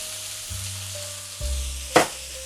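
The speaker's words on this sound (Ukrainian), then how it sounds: "А поки, друзі, цибуля смажиться" A steady sizzle of onion frying in a pan, with a low hum underneath and a brief louder crackle near the end.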